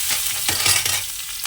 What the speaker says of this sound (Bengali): একটু পেঁয়াজটা ভালো করে ভেজে নিই